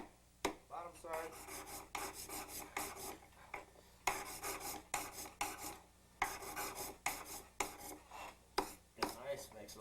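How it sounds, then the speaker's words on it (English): Repeated abrasive strokes of sandpaper against a gold ring at a jeweler's bench, a steady rasping rhythm of roughly a dozen close, fairly loud scrubs with brief pauses between them. "Sanding paper. Sand the other side."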